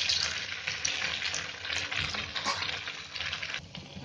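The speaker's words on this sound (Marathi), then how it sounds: "आता हे असे सर्व आहे ना थापून घेते आणि असे तळून घेते" Onion and cucumber vadas fry in hot oil with a soft, steady bubbling sizzle and faint crackles, fairly quiet and close.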